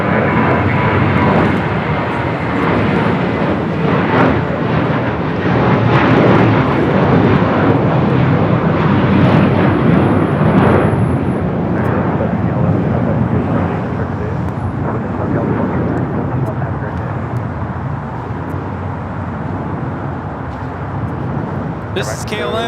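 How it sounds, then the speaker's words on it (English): A KLM Boeing 787-10 Dreamliner taking off for Amsterdam, a sustained loud jet roar that swells and then slowly fades over about twenty seconds, with a voice talking over it. "This is KLM 602 taking off to Amsterdam on a 787-10 Dreamliner."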